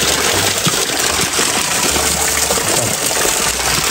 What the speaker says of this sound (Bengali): আসলাম একটি ছোট্ট একটি ঝর্ণা। এটি এই পানিতে খাওয়া যায় মূলত।